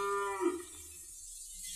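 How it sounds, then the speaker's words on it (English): Cows of a herd moo in a period radio drama set amid King George III's army, one long low lowing call swelling then fading, fairly close, over a faint background hiss with no talk. "Cows, like I said. An whole herd of them."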